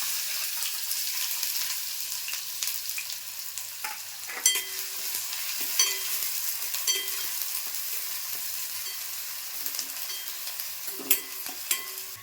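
Steady sizzling of onion frying in hot oil, with a few clinks and scraping stirs of a spoon against the pan; no talking.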